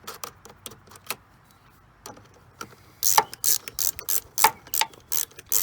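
A ratchet tightens a 10 mm nut on a Chevy Aveo, at first sparse single clicks, then a faster run of loud, close ratcheting strokes with no talking.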